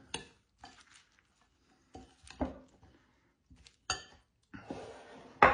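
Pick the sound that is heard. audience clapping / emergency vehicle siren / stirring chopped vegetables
stirring chopped vegetables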